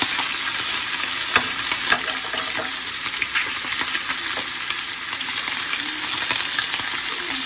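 Kielbasa sausage frying in a pan gives a constant bright, crackling sizzle with scattered pops and spits, steady and close throughout, with no voices.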